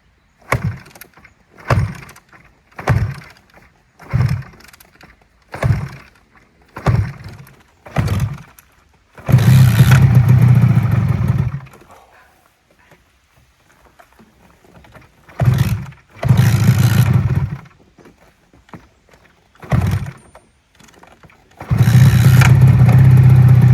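A Suzuki RG400 two-stroke motorcycle takes about eight loud, evenly spaced kick-start thumps, then fires into several short bursts of sharp, raspy engine running, each a few seconds long with pauses between, close by.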